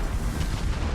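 Heavy naval guns boom in a continuous low rumble of shellfire from an enemy warship in World of Warships, a dense, loud barrage filling the whole moment without voices.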